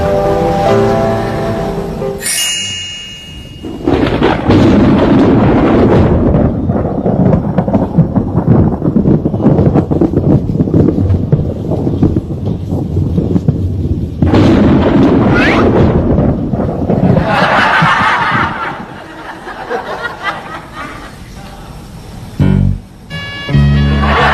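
Thunder rolls in long, loud rumbles, swelling and easing over many seconds with a short lull between two heavy rolls and an abrupt close-up crack near the end.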